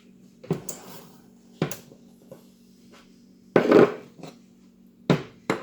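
Pie pan being handled in a home kitchen for a shepherd's pie, with several separate sharp knocks and clatters of metal on a hard surface spaced apart, with quiet pauses between.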